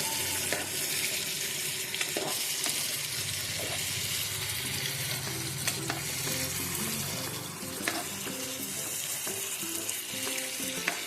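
Jackfruit curry with a pinch of garam masala is stirred in a pan: a steady, dense sizzle runs throughout, broken by scattered scrapes and light clinks of the spoon against the pan.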